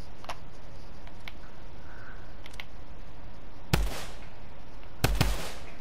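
Two sharp gunshots crack out a little over a second apart against a quiet background with faint ticking, loud and close, with no voices.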